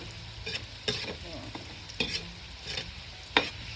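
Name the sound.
cooking and stirring spaghetti sauce in a pan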